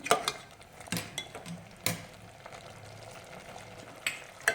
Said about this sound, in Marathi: मोठे गॅसवर कंटिन्यू हलवायचं खाली लागू शकतं गुळ असल्यामुळं आपण एक दोन मिनटं छान परतून घेऊया पुरण